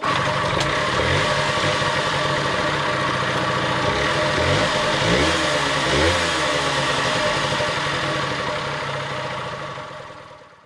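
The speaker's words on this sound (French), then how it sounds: "la moto a enfin démarré" A Honda MTX 50 two-stroke motorcycle engine, running outdoors after a rebuild, revs loudly and continuously at close range with rising and falling throttle sweeps before the sound fades away at the end.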